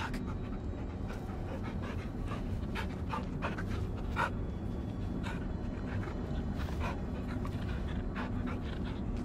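A dog pants steadily and close by throughout, in the Blair Witch video game, with faint whimpers and a few brief yips mixed into a constant low background rumble.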